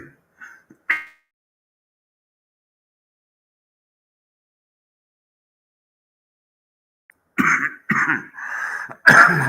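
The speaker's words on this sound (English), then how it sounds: "I'm sorry for coughing." A person coughs a few times close to the microphone, then falls silent for several seconds before a burst of louder, harsher coughing and throat clearing.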